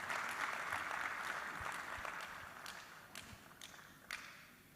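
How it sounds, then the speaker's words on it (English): Conference audience at a West African capital market event applauds a speaker, clapping that starts full and gradually thins and fades, with a few scattered late claps. "a round of applause for Dr."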